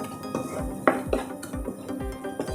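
A spoon scrapes and clinks against a pan in a steady stirring rhythm, sautéing chilli powder in tempering oil for drumstick curry, quiet and close, with no one talking.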